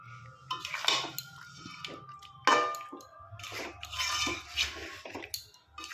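Chicken in green hariyali paste is stirred in a pan, with intermittent clinks and scrapes of a utensil against the pan and a soft sizzle between them, close by and without talk.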